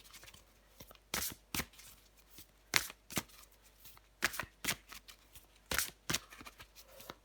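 Tarot cards being shuffled and drawn, heard as quiet crisp riffles and soft snaps in irregular bursts, close by, with no voice.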